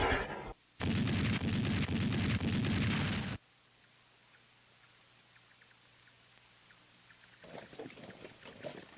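57mm anti-aircraft guns firing, a loud roaring burst that lasts a few seconds, then cuts to a quiet low rumble before faint crackling returns, with no speech.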